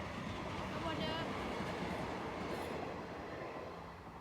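A train passes a level crossing with a loud, rushing roar and rattling wheels that hold steady and then gradually fade toward the end, with some faint voices in the background.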